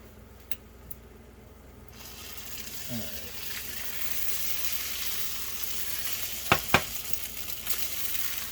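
An egg fries in a pan, a soft steady sizzle that swells after a couple of seconds, with a few sharp utensil taps and clicks near the end.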